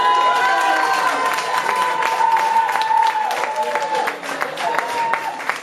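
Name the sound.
applause at fiftieth birthday party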